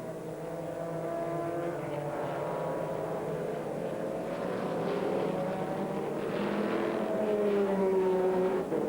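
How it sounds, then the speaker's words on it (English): Race cars at a 2001 American Le Mans Series race, including a turbocharged Citroën Motorsport GT Porsche, with engines droning loud and steady and rising in pitch as they pass close by, no talk. "passing the Citroën Motorsport turbocharged GT Porsche, being driven by Australian Charlie Cox"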